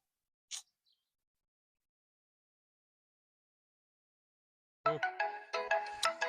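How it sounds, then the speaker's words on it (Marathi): A mobile phone ringtone plays alone, starting after a long silence and running as a bright, rhythmic melodic tune of repeated notes, close and clear, with a brief faint chirp heard earlier. "कोणाचा फोन आला बा"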